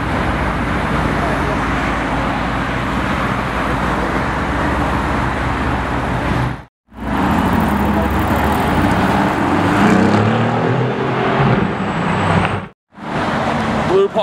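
A Lamborghini Aventador S V12 with a Novitec exhaust roars loudly and continuously nearby amid street traffic, its sound cut off twice by abrupt breaks, with people's voices mixed in.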